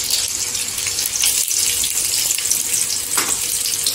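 Chopped onions dropped into hot oil in a kadhai for a Marathi dry fish curry, giving a loud, steady, hissing sizzle that fills the whole stretch without letup, close to the mic, with no talking.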